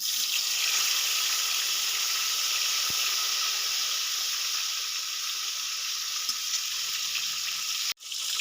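Chopped tomato frying in hot oil in a pan for a Bengali pabda fish curry, with a steady loud sizzle and hiss running throughout and a brief break near the end.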